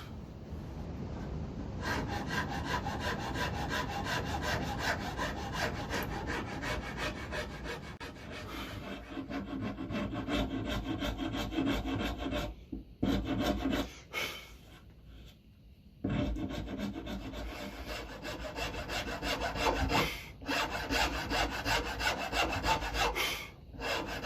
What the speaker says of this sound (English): I'm just going to use a file